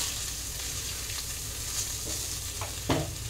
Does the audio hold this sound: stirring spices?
yes